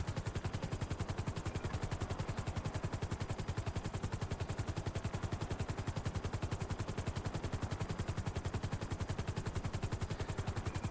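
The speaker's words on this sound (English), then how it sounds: "we're shooting at people who shot a guy in the middle of the street" Sustained automatic gunfire in a GTA 5 street shootout, a rapid, steady stream of loud shots rattling without pause for the whole stretch, with no talk over it.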